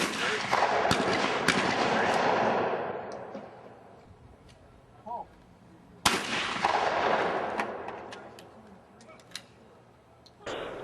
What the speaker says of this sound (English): I just felt out here shooting trap my very first time